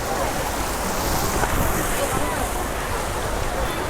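Sea waves wash against a rocky, sandless shore at Bandstand, Mumbai, where dirty gutter water flows in, making a dense, steady rushing roar mixed with wind buffeting the microphone.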